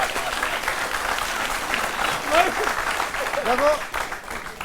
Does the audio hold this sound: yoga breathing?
no